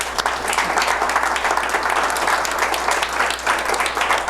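Meeting attendees give a colleague sustained applause, with dense, even clapping from a roomful of people and a low steady hum underneath, lasting about four seconds without pause.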